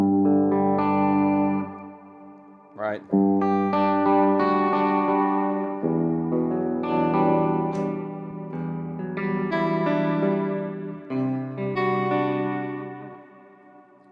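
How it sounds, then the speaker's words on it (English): An electric guitar on a praise-and-worship pedalboard rings out sustained chords through a plate reverb, moderately loud with smooth tails between chord changes, and a voice speaks one brief word. "this one I call versatile because it can kind of work for that real praise and worship"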